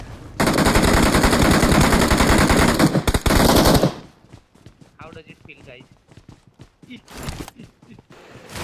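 Rapid automatic gunfire from the mobile battle-royale game BGMI on the Livik map, a loud sustained burst of shots, then scattered single cracks and footsteps with a voice talking over the quieter stretch.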